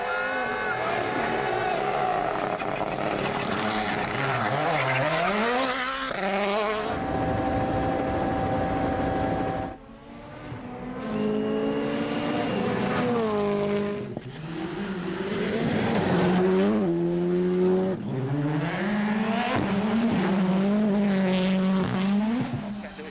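Rally cars at the 2023 WRC Croatia Rally roar past on a road, engines revving hard through gear changes with rising and falling pitch, loud and close, several passes in a row with a brief lull between.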